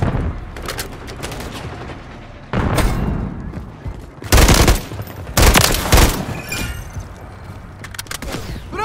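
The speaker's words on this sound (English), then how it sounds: "Taking effective fire!" Heavy gunfire in a Call of Duty Hardpoint match, several loud bursts and booming shots hitting in clusters over a continuous backdrop of distant battle noise.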